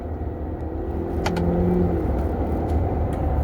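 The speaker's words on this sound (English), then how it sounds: "You do get a little bit of supercharger whine." The supercharged engine of a 2023 Cadillac Escalade V, loud and close from inside the cabin, a steady low drone rising as it accelerates with a thin whine laid over it, no talking.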